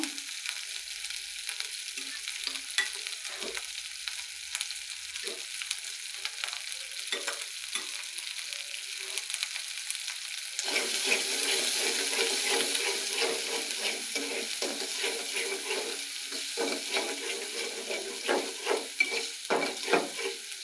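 Onion paste and spices frying in a pan for an egg curry while being stirred, a quieter crackle that surges into a louder steady sizzle halfway through, with repeated scraping strokes of a spoon, close.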